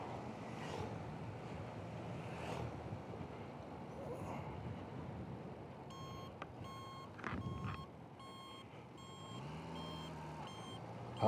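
A vehicle's reversing buzzer beeps in a regular repeating pattern during a drive, starting partway through over wind noise and road rumble inside a car.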